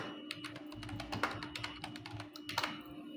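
Fingers type on a computer keyboard up close in an office, a quick irregular run of soft plastic key clicks with brief pauses between bursts.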